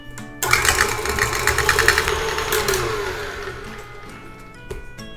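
Electric stand mixer whirring loudly as it beats cream cheese, butter, mascarpone and vanilla bean paste into frosting, a steady motor drone with a rattling edge starting abruptly and running throughout.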